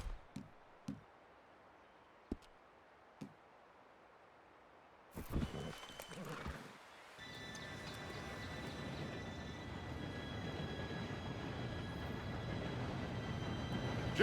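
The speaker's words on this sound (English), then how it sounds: "Train should be here any minute now." An approaching train in the video game Red Dead Redemption 2, a low rumble that swells into a steady, building roar with faint metallic squeals, following quiet ticks and a brief clatter, no talk.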